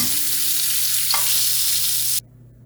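Fish fries in a pan of oil with a steady, loud close sizzle and a faint scrape partway through, cutting off abruptly near the end, with no talk.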